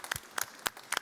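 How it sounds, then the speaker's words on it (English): A few scattered, separate claps at a tech investor event, sparse and brief, more like a handful of hands than a full room. "Applause."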